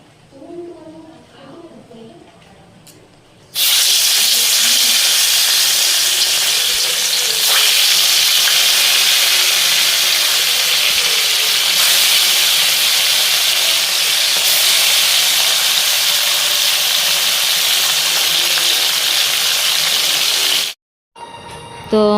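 Besan fritters dropped into a hot pan of oil burst into a loud, steady sizzle that holds for nearly twenty seconds before cutting off, with brief faint talk at the start.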